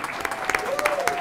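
Audience at a school board meeting claps in a brief burst of applause, dense and fairly close, with a voice speaking over it.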